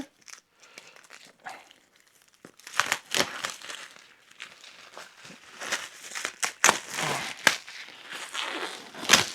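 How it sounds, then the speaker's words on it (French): Plastic shrink wrap crinkles and tears as it is pulled off a Chroniques de Drunagor board game box, in irregular crackly bursts that start quietly and grow louder and denser. "j'ai des gros problèmes pour arriver à ouvrir les plastiques"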